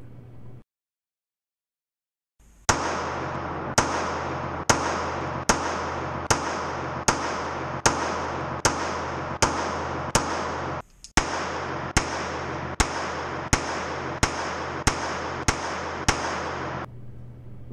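Pistol shots at a shooting range from a Beretta Bobcat 21A and a Ruger LCP Max, around fifteen sharp, loud cracks fired in a steady rhythm with a short pause partway through.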